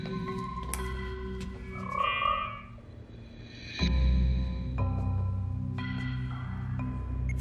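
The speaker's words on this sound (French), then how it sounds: "T'as envie de l'entendre croasser?" A small pet frog croaks in a futuristic indoor setting, a series of rhythmic, buzzing croaks close by with brief pauses, with no talking.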